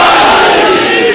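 Large crowd chanting a religious Islamic slogan in unison at a gathering, a loud, dense wall of voices that holds steady and fades slightly at the end.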